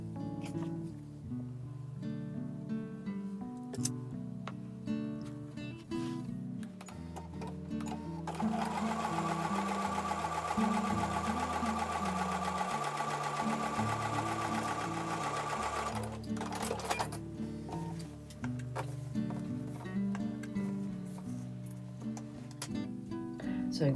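A sewing machine stitches pieces of a combination star quilt block, its motor humming steadily in a close, continuous run that speeds up into a louder, denser whir through the middle before easing back.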